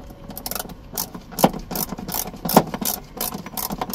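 Ratchet clicking as a bolt on a car seatbelt is tightened, with a steady series of close mechanical clicks in short bursts and a couple of sharper metallic knocks.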